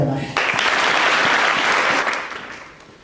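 Applause from an audience at a university student praise and worship gathering, a dense burst of many hands clapping that swells in at once, holds steady and fades out near the end.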